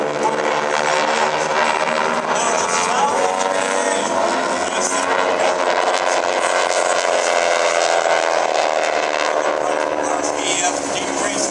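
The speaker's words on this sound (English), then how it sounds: "You'll hear the engine sound of 600 horsepower of a rattle in the engine." A 600-horsepower aircraft engine roars at an airshow, loud and sustained with a rattling, buzzing drone that holds steady throughout while an announcer talks over it.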